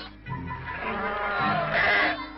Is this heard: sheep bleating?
yes